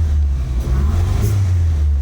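A Nissan Super Turbo car engine runs roughly with its O2 sensor unplugged, giving a loud, close, uneven low rumble with slight wavering through the short stretch.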